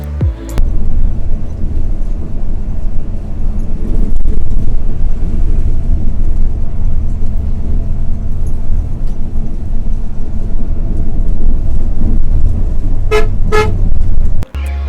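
Inside a moving Hanif Volvo B9R multi-axle bus on the road from Chittagong to Dhaka, a loud, steady engine and road rumble fills the cabin. A couple of short horn toots sound near the end.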